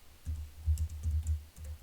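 Quick bursts of typing on a computer keyboard, soft muffled key clatter in short uneven runs with brief pauses, close and fairly quiet with no talking.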